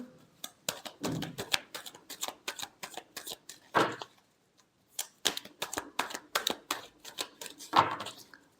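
Tarot cards being shuffled up close, with quick riffling bursts of papery flicks broken by short pauses and repeated several times, and no voices over them.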